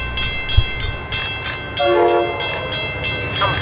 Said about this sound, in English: Soon after, however, CT Rail 4407 came breezing by, using a shoreline east set on Wednesday,